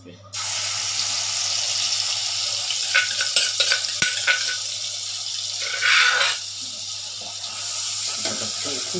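Chili sauce for fish is stir-fried in a pan. Loud continuous sizzling comes with stirring and scraping, and a voice is faintly heard under it.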